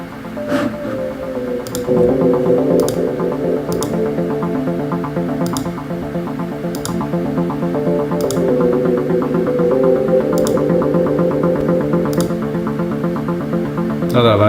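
An electronic music track with a slowly panning reverb drones on at moderate level, with evenly spaced percussive ticks sounding roughly every second over a throbbing, humming bed.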